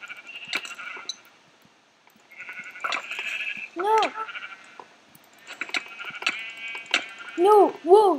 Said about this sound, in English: I'm killing my sheep.